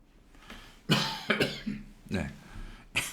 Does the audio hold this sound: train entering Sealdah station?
no